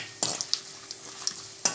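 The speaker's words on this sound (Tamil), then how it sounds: "இப்போ வந்து எண்ணெயில் நல்லா பொரியட்டும்." Quiet sizzling of whole spices, including star anise, frying in oil in a pan, with occasional metallic clinks and scrapes of a utensil stirring, no talking.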